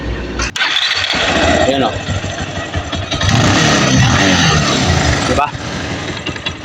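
A Rusi 180 motorcycle with a freshly cleaned carburetor cranks, fires and settles into a loud, steady idle close by, with someone talking over the engine throughout.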